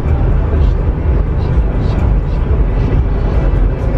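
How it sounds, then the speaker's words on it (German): Steady road and wind roar inside a moving Tesla Model 3, a broad constant rush heard from the cabin at speed, with no talk over it. "So, jetzt kommen die Windgeräusche dazu."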